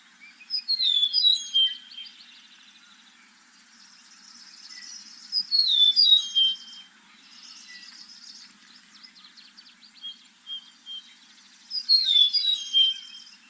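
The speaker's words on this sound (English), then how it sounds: "So that's the eastern meadowlark." An eastern meadowlark sings outdoors in spring, clear sweet whistled phrases recurring every few seconds over a quiet background with faint insect buzz.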